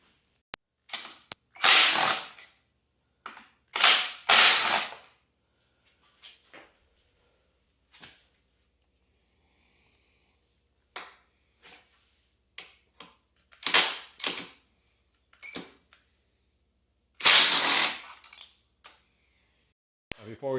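A power tool gun spins off the tail-section bolts of a Yamaha FZ6 motorcycle during a taillight install, giving several short whirring bursts separated by silence and faint handling noises.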